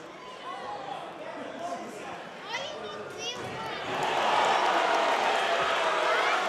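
Boxing-match crowd at a live bout swells into a loud, sustained roar in the latter half, mixed with ringside commentary voices.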